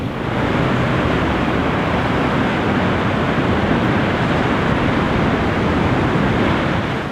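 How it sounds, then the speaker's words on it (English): Big ocean waves breaking at Pescadero beach, a loud, continuous wash of surf roar with wind, steady throughout and no voices. "some big waves today"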